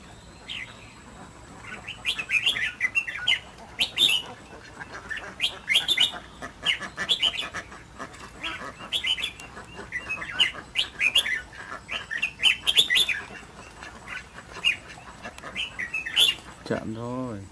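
A red-whiskered bulbul sings in repeated bright, warbling phrases close by, the bursts coming every second or two over a faint background, with soft voices talking nearby.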